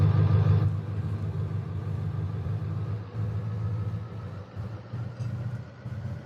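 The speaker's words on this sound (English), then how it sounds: "I want to get this loud truck out of here." A heavy engine rumbles steadily at close range, a low idling drone that holds throughout with slight surges.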